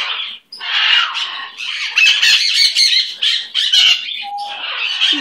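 A pet bird squawks loudly and almost continuously at close range, harsh raucous calls in bursts with brief pauses, and no talk over it.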